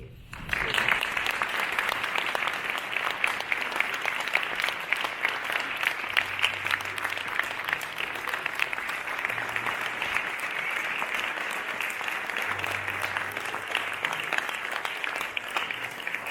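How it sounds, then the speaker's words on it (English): A room full of people applauds after a speech, sustained loud clapping that starts abruptly and continues evenly for about sixteen seconds, with faint crowd murmurs underneath. "Please could we have one more round of applause for Kathy"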